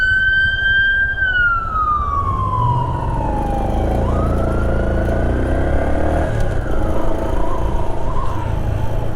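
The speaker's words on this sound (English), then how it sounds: "I hear an emergency siren." An emergency vehicle siren wails loud and steady through Houston traffic, its pitch sliding down and then rising again as it approaches from behind, with engine rumble and road noise underneath.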